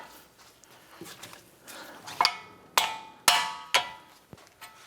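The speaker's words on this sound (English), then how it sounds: "Using a 21mm socket, we're going to go ahead and loosen the tie rod end nut." A 21mm socket and ratchet loosen a tie rod end nut on a 2007-2014 Cadillac Escalade steering rack, giving a few sharp metallic clacks and ratcheting clicks that grow louder toward the end, close up with no speech.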